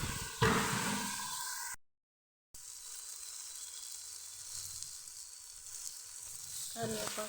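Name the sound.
stirring chicken in a frying pan with little oil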